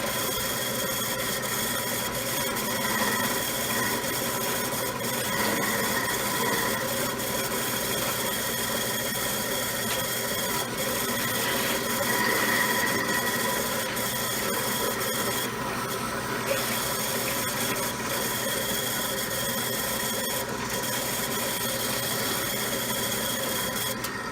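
A continuous steady whir of a power sander grinding against leather, working along the seam of two pieces, unbroken for the whole stretch with a faint scraping texture.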